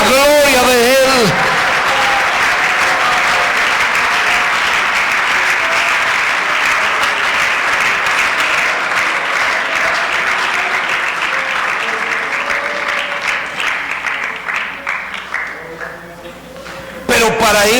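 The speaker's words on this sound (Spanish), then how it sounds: "aplauda la gloria de Él" A church congregation applauds during a Sunday school service, dense clapping held loud and steady for most of the stretch before thinning out near the end, with a voice briefly heard at the start and again at the close.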